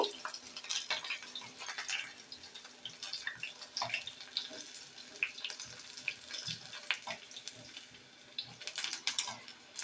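Coated onion rings deep-fry in oil with a low, constant sizzle and scattered snapping pops, with some faint stirring and clinking mixed in.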